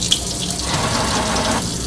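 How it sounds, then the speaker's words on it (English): Cold water runs steadily from a sink tap for hand washing, a continuous close splashing rush with no voices. "turns on the water at the sink. I'm going to turn on the cold water first"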